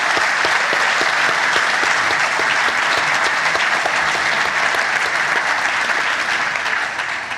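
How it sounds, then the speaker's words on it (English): An audience gives a sustained, loud round of applause for the panelists at the close of an AI panel discussion, dense clapping filling the room throughout with no talk over it. "Can everybody just have a big, massive round of applause for our panelists today?"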